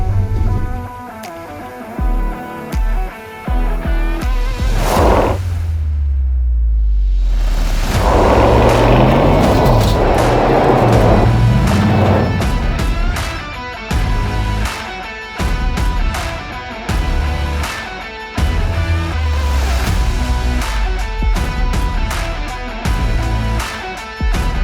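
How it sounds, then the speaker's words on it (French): A car with no limited-slip differential, so only one tyre spins, does a burnout: the engine revs hard and loud, with a long roaring stretch of tyre spin, then choppy throttle bursts and lifts. "Petit départ en burn"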